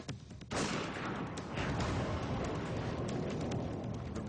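A sniper rifle shot sends a round through a wall into ballistic gelatin: after a brief quiet moment, one sudden heavy blast gives way to a long, loud, rumbling roar that fills the rest of the moment.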